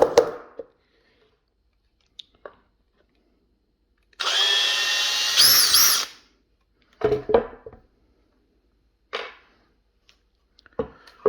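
A Makita 18V brushless hammer drill runs in one loud burst of about two seconds, its pitch rising near the end, between short clicks and handling noises.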